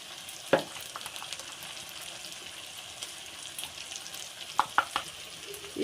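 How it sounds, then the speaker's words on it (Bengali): Onion spice paste sizzling in a pan as ginger and garlic go in for chicken biryani, a steady frying hiss broken by a few sharp utensil clinks and scrapes near the start and toward the end. "মশলাটা একটু ভালো করে কষে নিয়েছি আদা রসুনটা এবার দিয়ে দেবো"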